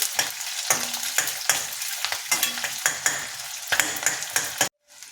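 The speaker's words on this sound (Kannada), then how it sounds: "ಆನಿಯನ್ನು ಚೆನ್ನಾಗಿ ಈ ಥರ ಫ್ರೈ ಆಗಬೇಕು." Onions frying in oil for capsicum curry, a close, steady sizzle broken by repeated rhythmic scrapes of a spoon stirring the pan, ending abruptly in near silence.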